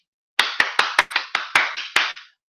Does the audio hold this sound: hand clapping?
yes